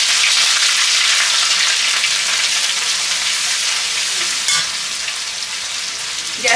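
Cumin, ginger and garlic paste frying in a pan for a spiny gourd sabzi, a steady close hissing sizzle that eases slightly near the end, with no talking.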